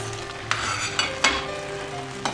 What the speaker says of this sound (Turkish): Biberimizi de şöyle bir 4-5 dakika pişireceğiz